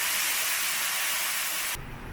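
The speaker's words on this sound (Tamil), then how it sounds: "இந்த புளி கரைச்சி வச்சதை சேர்க்கணும்." Tamarind water poured into a hot tempering bursts into a loud, hissing sizzle that holds for under two seconds, then cuts off sharply to a quiet bubble.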